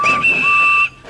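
A guard's whistle blown as a train departs, a loud shrill tone with a brief break near the start, then held steady for nearly a second before cutting off.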